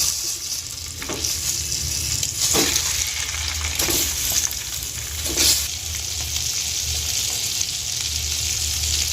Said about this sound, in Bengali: এবার আমি ডিমগুলো ভেজে নেব